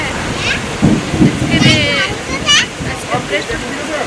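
Heavy rain pours down during a strong thunderstorm with wind, heard from a veranda as a steady, loud, broadband roar running under someone talking throughout.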